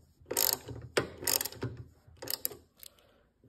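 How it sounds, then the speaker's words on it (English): Screws being tightened on a new Harley-Davidson Ride Free fuel cap, heard as several close, sharp ratcheting clicks and mechanical scrapes in uneven bursts, with no talking. "I'm actually putting the new one on, so I'm just gonna tighten it up a little bit more"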